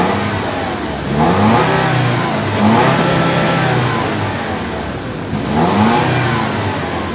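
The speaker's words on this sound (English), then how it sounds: "It has a pretty good exhaust note too." A 2015 Lexus NX F Sport engine with sound augmentation revs through the exhaust in repeated rising pulls, a steady mid-range drone swelling about three times, close and loud with no talk over it.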